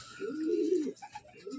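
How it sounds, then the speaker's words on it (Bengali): A female Lalbon pigeon from an old breeding line gives a low, throaty coo that rolls for most of a second, then starts again more softly near the end, close and clear with no voices. "এটা একটা মাদি পায়রা, বহু পুরনো জেনারেশন"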